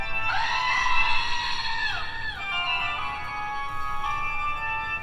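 A goat's long, wavering scream, loud and close, with a bleating pitch that sags and breaks, followed by a second drawn-out cry.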